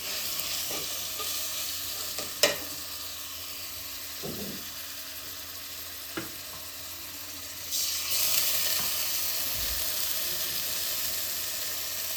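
Chilli, onion paste and garlic paste frying in hot oil for a prawn bhuna, a steady sizzle with a few sharp stirring clinks and scrapes, close and alone without talk.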